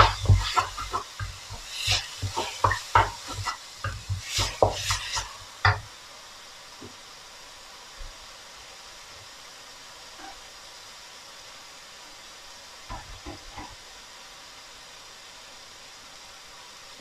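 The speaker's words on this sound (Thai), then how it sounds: "เราจะรวนหมูให้สุกก่อน" Minced pork stir-fries in a hot pan before morning glory is added. Clattering spatula scrapes and sizzle bursts come first, then a soft, steady hiss with occasional faint knocks.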